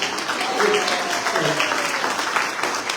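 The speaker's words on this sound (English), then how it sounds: "A swing of applause." Audience at a magazine awards presentation breaks into applause, a dense steady patter of many hands clapping for about three seconds, fairly loud and continuous.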